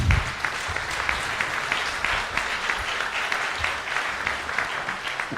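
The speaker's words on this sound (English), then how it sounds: "give these distinguished ladies a big round of applause" An audience at a conference applauds a panel of distinguished women, a steady, full round of clapping from many hands that carries on evenly throughout with no talk.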